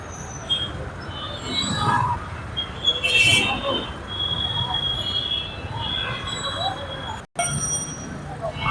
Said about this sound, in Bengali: ট্রেন হয়তো চলে গেছে